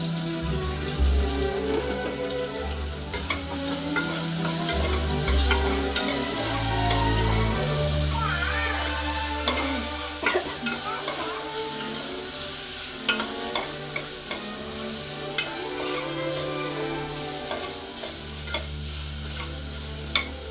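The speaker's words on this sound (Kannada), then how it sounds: "ಈರುಳ್ಳಿ, ಹಸಿಮೆಣಸಿನ್ಕಾಯಿ ಒಟ್ಟಿಗೆ ಹಾಕೊಂಡು ಫ್ರೈ ಆಗುತ್ತೆ ಬೇಗ ಅಂತ" Chopped onions and green chillies fry in a pan, a continuous close sizzle with repeated scraping and stirring strokes of a utensil, no talking.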